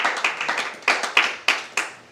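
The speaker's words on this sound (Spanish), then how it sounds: "Dele un aplauso a Dios ahí en esa frase" Scattered hand claps from a church congregation during a Spanish-language service, a handful of sharp separate claps at uneven intervals, fairly close and with no talk over them.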